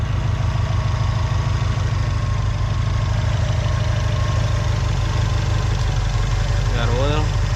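A Subaru WRX sits idling just after startup following an oil change, a loud, steady low rumble with a constant pulsing beat close by and a brief squeak near the end.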